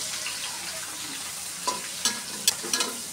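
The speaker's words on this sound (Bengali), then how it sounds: "মাছটা সুন্দর করে ভালোভাবে ভাজা করে নিব পেঁয়াজের সাথে, কাঁচামরিচের সাথে।" Hilsa fish heads fry in a wok with onion, green chili and spring onion leaves: a steady close sizzle, broken by a few sharp scraping clicks of a spatula stirring, with no voices.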